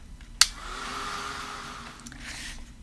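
A heat tool blows steadily while drying Distress Oxide ink on craft cards, a soft continuous whirring hum that begins with a sharp click and runs at moderate volume.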